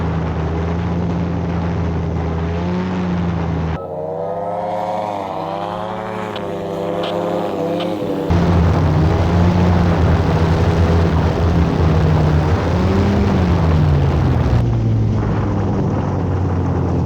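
Engine of a homemade ultralight manned aircraft, down on power and coming in to land, a loud continuous droning hum whose pitch dips and shifts, with no talk.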